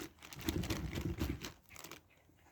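Thin plastic bag crinkling and rustling as it is handled around a foam-filled monster figure's head, a close, busy stretch of crackle for about two seconds that then drops away to quiet.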